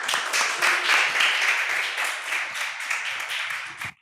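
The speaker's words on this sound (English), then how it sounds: "A big round of applause," An audience claps for a student speaker at a school event, a dense, steady burst of applause that holds for several seconds and then cuts off abruptly.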